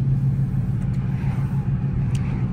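A Dodge Hemi engine idles with a deep, steady rumble, close and loud, with no voices.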